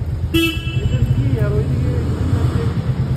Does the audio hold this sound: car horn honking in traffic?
yes